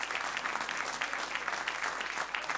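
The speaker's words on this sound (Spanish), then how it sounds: "Denle un gran aplauso al Señor." Steady applause from a church congregation during a worship service, continuous dense clapping at moderate level with no pauses.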